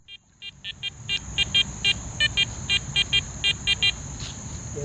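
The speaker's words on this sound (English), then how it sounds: "I'll bring the detector back into action." Metal detector giving a rapid series of short, evenly spaced high beeping tones during a search for buried targets in Australia, close and clear over steady low outdoor rumble, with no talking.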